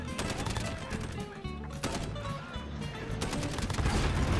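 Video-game gunfire from a SCAR rifle, dense overlapping shots and impacts over a busy, loud game soundscape, continuing throughout.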